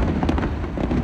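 Government fireworks display at night, a dense continuous rumble of distant bursts and crackles with faint pops rising through the wash of sound.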